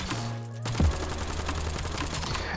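An MK.78 light machine gun fires in the Black Ops 7 video game, a rapid sustained burst of clattering shots with a heavy low thump near the start, loud and close.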